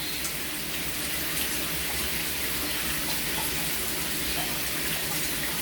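A shower head sprays a steady, broad hiss of water onto a perch where a molting parrot bathes, continuous and fairly loud throughout.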